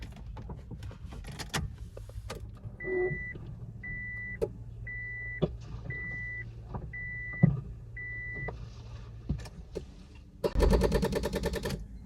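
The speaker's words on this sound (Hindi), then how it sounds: "गाड़ी भी स्टार्ट करके देख लेते हैं कि हमारी बैटरी अभी तक ओके है" A Honda Civic EK with a dead battery gives six evenly spaced electronic beeps with faint clicks, ending in a brief harsh burst of noise.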